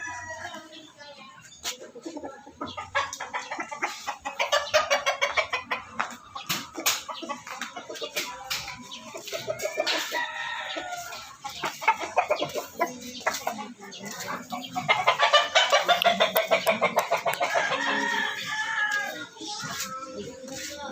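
A rooster crows and chickens cluck repeatedly over several seconds, with children's voices chattering in the background.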